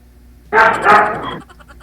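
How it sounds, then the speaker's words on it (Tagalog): A single loud dog bark close by, one harsh burst lasting about a second against a quiet background. "maingay po kasi yung aso"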